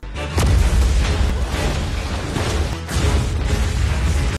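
Loud, booming gunshots in a dramatic anime scene, with two sharp shots standing out over a dense, rumbling wash of noise.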